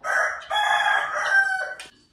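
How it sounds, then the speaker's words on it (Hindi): A rooster crows early in the morning, one long, loud cock-a-doodle-doo heard close up and alone, rising and holding before it breaks off. "सुबह सुबह मुर्गों की आवाज सुनने को मिल जाए ना बहुत ही अच्छा ही लगता है"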